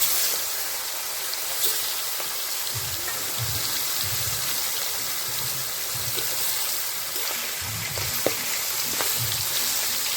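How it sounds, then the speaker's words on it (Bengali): Rohu fish pieces rubbed with salt and turmeric fry in oil, giving a loud, even, continuous sizzle with faint low bubbling underneath, close up and with no talk. "এখন ভেজে নিচ্ছি।"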